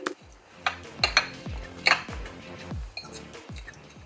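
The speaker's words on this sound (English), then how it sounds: "we're going to mash this up into smaller pieces. I'm just going to use a fork." A fork mashing cooked mirliton in a dish, a series of sharp clinking taps of metal against the bowl at an irregular rhythm, close and fairly quiet with a wet squish under each stroke.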